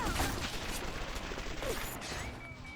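A 1920s-style submachine gun in BioShock fires in a dense, continuous rattle, loud and close, with no talking.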